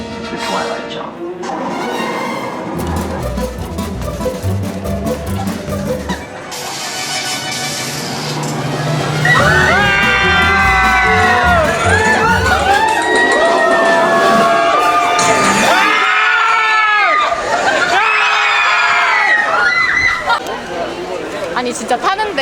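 Riders scream and shriek on a theme park drop ride, a sustained chorus of high wavering cries that rises and falls with brief lulls, loud and close over rumbling ride noise and chatter.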